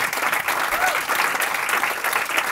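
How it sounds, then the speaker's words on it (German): Audience applause at a German comedy show, a steady, dense clapping from a crowd filling the room, loud and close, with a voice faintly present underneath. "einen Riesenapplaus für Moritz Neumeier!"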